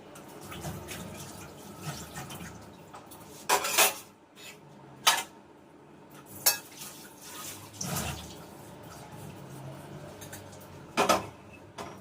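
Dishes and cutlery clink and clatter in a kitchen as eggs are moved into a bowl, several distinct sharp knocks spaced apart over a low background of running water and handling noise.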